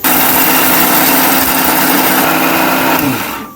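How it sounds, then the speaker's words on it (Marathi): A mixer grinder whirs steadily as it grinds sambar masala into a fine paste, a loud, continuous motor hum with a high whine that holds for several seconds and then begins to wind down at the end. "आता हे मिक्सरमध्ये बारीक वाटून घ्यायचं."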